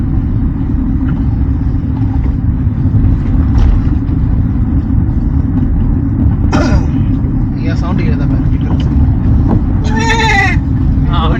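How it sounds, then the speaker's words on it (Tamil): Goats bleat a few times, near and fairly clear, over a loud, constant low rumble of a Maruti Swift's engine while off-roading toward Anamudi peak, with people talking throughout. "இது ஆடுடா."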